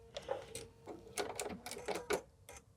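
A sewing machine stitches quilt binding on a 60-degree diamond table topper in short mechanical bursts with brief pauses, close and fairly quiet, finishing with a back stitch.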